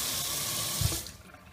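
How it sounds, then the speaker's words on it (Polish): Water pours from a kitchen tap into a small pot to cover vegetables for a potato and carrot purée, a steady broadband rush that thumps briefly near the end, then cuts off and leaves a quieter tail. "wlewam sobie taką ilość wody, żeby je przykryć"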